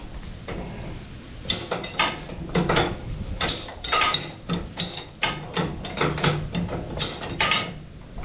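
A wrench works the nut loose on the shaft of a molder planer, giving a busy run of metallic clicks, ratcheting rasps and clanks in quick, irregular bursts, close and fairly loud over a low background hum.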